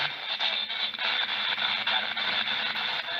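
Quiet radio static hissing and crackling steadily with faint pulsing, heard alone during a paranormal investigation in a house.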